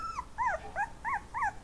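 A dog that has recently had puppies gives five short, rising-and-falling whimpers in a steady rhythm, close but quiet, with no talking.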